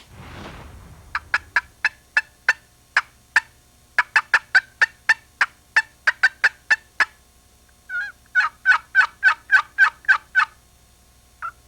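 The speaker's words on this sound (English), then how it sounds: "I don't think there's a better sound than hearing turkeys in the spring" Wild turkeys gobbling in spring, a long series of sharp, rapid gobbles in clustered bursts, moderately loud and carrying in open air, alone without talk.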